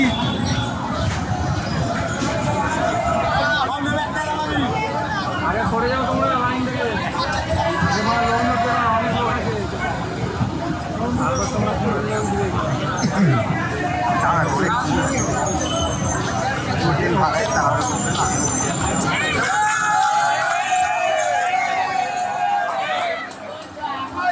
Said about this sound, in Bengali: সারাফুলি স্টেশনে প্রচুর ভিড়